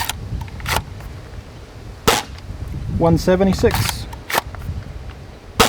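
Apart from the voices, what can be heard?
gun shots fired over a chronograph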